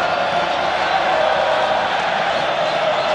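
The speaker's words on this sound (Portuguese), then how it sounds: "A torcida responde." Crowd of Ipatinga supporters cheering and chanting at a Brazilian Série B football match in 2007, a steady, loud, dense roar from the stands holding at one level throughout.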